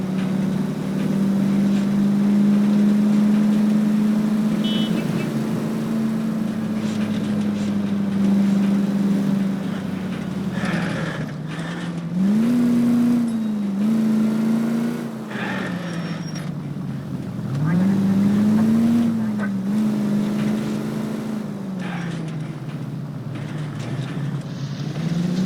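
Car driven in the game L.A. Noire, a steady engine drone with rising and falling revs as it accelerates and shifts, close and loud, with faint tire and road noise underneath.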